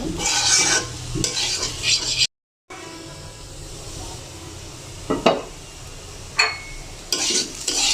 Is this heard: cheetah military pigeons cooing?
no